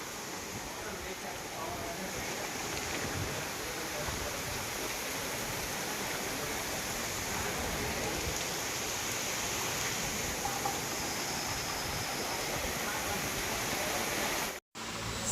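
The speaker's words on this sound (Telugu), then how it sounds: "చూసారా వర్షం ఏ విధంగా పడుతున్నా" Rain pours down steadily during a sudden windy downpour, a dense, even hiss that holds constant for the whole stretch before a brief cut near the end.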